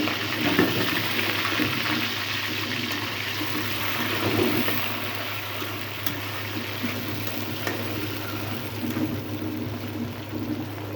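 Dried churi shutki fish frying in hot oil in a pan, giving a steady, close sizzle with a soft crackle that holds evenly throughout, with no talking.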